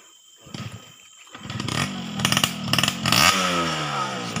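A motorcycle engine on a rough jungle track starts quietly after a brief lull, then revs up in bursts with clattering mechanical noise, rising to a sustained loud whine near the end.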